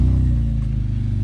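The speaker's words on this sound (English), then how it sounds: "you guys can hear that aftermarket exhaust I was telling you guys" Genesis G70 3.3T with an aftermarket exhaust and muffler delete, a close, loud, deep, pulsing engine rumble heard just after start-up, brief and steady.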